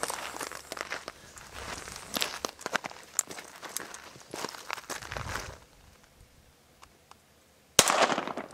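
A pistol fires during a tactical shooting challenge with two shots per station: shuffling and handling noise, then one loud, sharp close-range shot near the end after a quiet pause.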